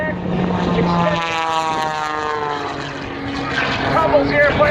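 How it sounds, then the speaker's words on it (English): An aerobatic propeller airplane flown by Skip Stewart at the Gaylord, Michigan air show roars loudly and steadily, its engine pitch sweeping up and down as it tumbles. A commentator talks over the drone throughout. "Tumbles the airplane."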